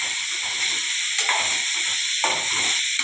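Tomatoes fry in hot oil with cumin, giving a steady close sizzle and hiss that swells in bursts as the pan is stirred, with no talking.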